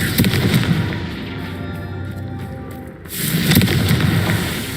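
Confringo fire spell blasts in the Hogwarts Legacy video game, heard as loud crackling explosive bursts, one at the start and another after a brief lull, with no talk.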